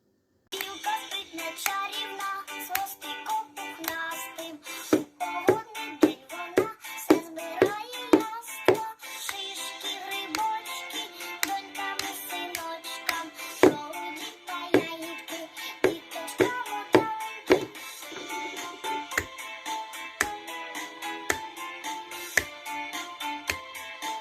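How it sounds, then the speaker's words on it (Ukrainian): Children clap their hands along to a rhythm game set to music in a kids' music class, sharp claps in repeating patterns over a continuous musical accompaniment. "Якщо у вас нема горішків, то плескайте в долоні."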